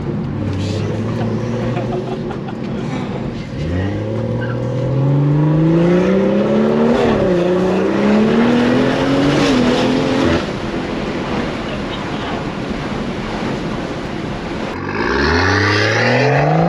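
A turbocharged BMW F22 M240i is driven hard, its engine surging through repeated climbs in pitch with gear changes, loud and close inside the cabin, with little talk.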